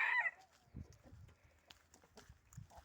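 A farmyard hen clucks softly in short, scattered bursts, faint and close, with quiet rustling between the calls.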